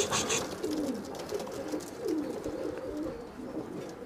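Teddy pigeons coo in soft, repeated low rolling phrases at close range against a faint background, with a brief brighter flutter at the start.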